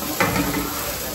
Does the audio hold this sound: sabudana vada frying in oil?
yes